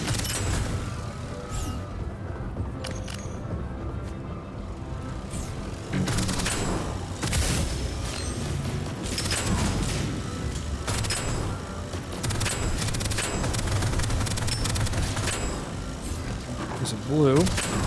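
Rapid minigun fire in the video game Deadzone Rogue, a dense, continuous burst of shots with booms and crashes over about eighteen seconds, mixed with game effects.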